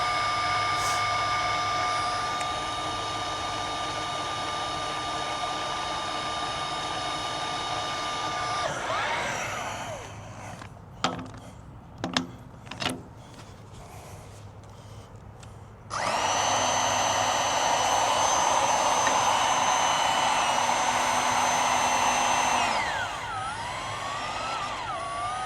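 A RAD torque gun tightens large bolts on a service call, whirring with a steady high-pitched motor whine for several seconds, a few sharp clanks in a quieter gap, then another long loud whine.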